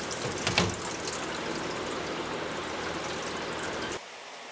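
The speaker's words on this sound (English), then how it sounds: "pull the drum off the Jobo and allow the water jackets to drain" Water drains from the water jackets of a Jobo film processor after the drum is pulled off, a steady rushing trickle that holds close and even, then cuts away abruptly near the end.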